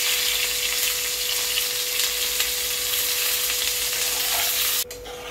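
Ridge gourd slices with salt frying in a pan while being stirred, a steady close sizzle filling the whole clip without pause before dropping slightly near the end.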